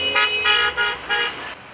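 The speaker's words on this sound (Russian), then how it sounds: "145 машин с диким ревом клаксонов полдня носились по городу" Car horns blaring from a victory motorcade of 145 cars circling through a city: about four loud, overlapping sustained blasts in quick succession, with no voices.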